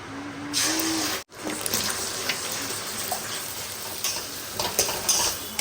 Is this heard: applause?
no